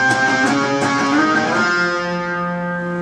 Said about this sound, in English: second guitar is going to play these octaves